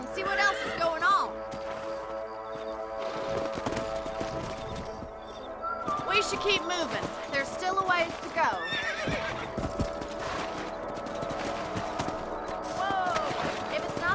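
Horses in a Western-style video game whinny and clop along amid rustling and thumps, with someone talking over the riding sounds, which stay close and busy throughout.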